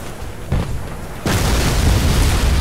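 A frigate is destroyed in the space combat game Star Conflict: a soft thump, then a loud sudden boom that swells into a sustained, rumbling roar.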